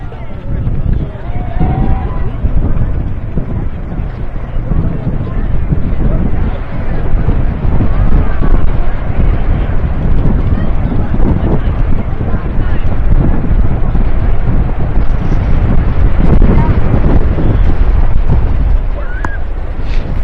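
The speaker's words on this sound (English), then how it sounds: "The wind is a full-blown gale force wind." Gale force wind blowing hard outdoors at a game; a loud, continuous roar of wind buffeting the microphone holds steady throughout.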